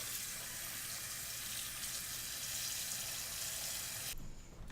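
Tap water pours steadily into a pot, a constant close hissing gush that stops abruptly near the end.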